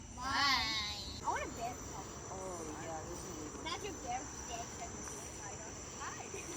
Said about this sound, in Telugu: ఇన్సెక్ట్స్ అదంతా కూడా కప్పలు అరుస్తున్నాయి అంతా అలా ఉంది.